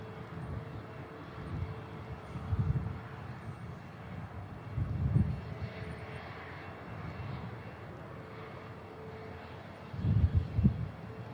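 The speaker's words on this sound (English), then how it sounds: "the Embraer for Newquay lines up now over Logan Air" An Embraer jet lining up for departure to Newquay at Manchester Airport, its engines a low, distant rumble that swells in several surges over a steady background hum, with no talk.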